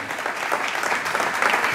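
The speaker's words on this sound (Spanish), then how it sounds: "por favor, un fuerte aplauso para ellos" A crowd claps at the closing concert of the Iberia exhibition: a brief burst of dense, steady applause filling the hall, loud and continuous with no voices over it.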